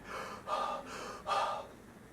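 Two deep, slow breaths, each a long airy inhale-exhale swell, taken close to the mic by a guitarist calming himself between Hendrix-style playing; no talking.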